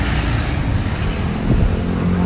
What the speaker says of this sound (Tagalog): napakadaming motor-motor